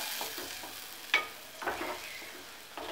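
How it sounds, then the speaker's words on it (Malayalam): Mango pickle being stirred in a pan after apple cider vinegar is added, a soft low sizzle with a few distinct spoon scrapes and knocks spaced out, no voices. "ഇത് നമുക്ക് നന്നായിട്ടൊന്ന് ഇളക്കാം"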